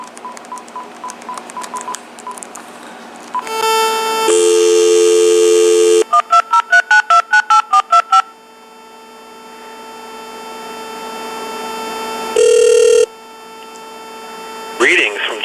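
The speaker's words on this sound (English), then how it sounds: "let's go ahead and check out, of course, the speakerphone of the first handset calling both numbers" Uniden TRU8885-3HS cordless phone handset on speakerphone dialing out, with a string of loud, close keypad beeps, a steady dial tone and ringback tones, and a short burst of voice at the end.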